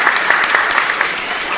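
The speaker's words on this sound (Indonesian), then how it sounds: "Boleh tepuk tangan pemirsa" A studio audience breaks into dense, steady applause that carries at an even level from start to finish, with no voices over it.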